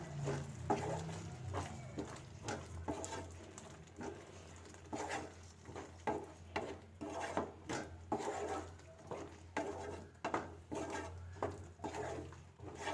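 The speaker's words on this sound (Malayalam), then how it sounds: "ഇതുപോലെ നന്നായിട്ടൊന്ന് മിക്സ് ചെയ്ത് കൊടുക്കാം" A spoon stirs and scrapes paneer mutter masala curry with garam masala in a pan, soft rhythmic taps and rubbing strokes repeating steadily, close and fairly quiet.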